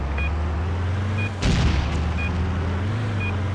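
A single booming explosion in the PlayStation 2 game Stuntman, bursting loudly for a moment over a steady droning engine hum and faint periodic beeps.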